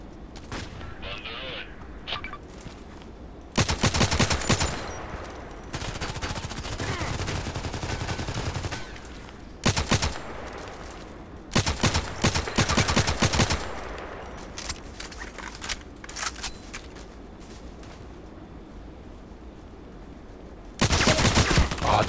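Automatic gunfire in the video game Contract Wars comes in several loud bursts of rapid shots separated by quieter stretches of game ambience, with a final burst at the end and no talking.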